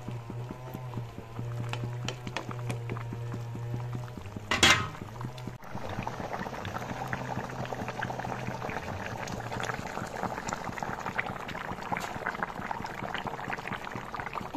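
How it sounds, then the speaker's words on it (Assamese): Fish curry with cauliflower bubbles and simmers in a pot, a soft close boiling gurgle with a brief louder clatter partway through and no speech. "এইখিনি আৰু মই এনেদৰে 5 মিনিট সময় উতলিবলৈ দিম।"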